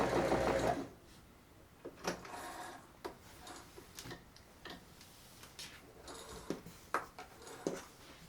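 A sewing machine hums briefly up close, then falls to quiet, scattered mechanical ticks and clicks.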